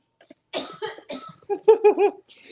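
A short burst of harsh coughing, several rough hacks in quick succession, close and fairly loud, followed by a breathy exhale.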